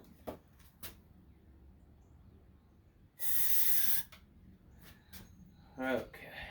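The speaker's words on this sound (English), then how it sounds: "spraying the starter fluid in" A single close burst of aerosol starter fluid spray into a Toro Powerlite snowblower hisses for about a second amid quiet clicks and knocks, with a brief softer spray moment near the end.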